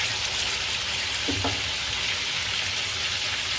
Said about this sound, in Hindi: फ्राई कर देना है चिकन को